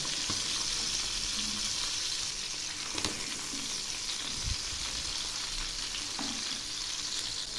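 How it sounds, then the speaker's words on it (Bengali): Taki fish fry in a wok with a continuous moderate sizzle, broken by a few soft clunks and scrapes as the pieces are flipped over. "মাছগুলো এক পাশ ভাজা হয়ে গেছে, এবার আমি উল্টে দিচ্ছি।"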